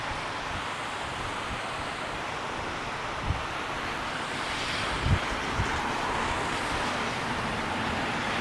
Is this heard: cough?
no